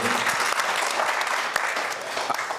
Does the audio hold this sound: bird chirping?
no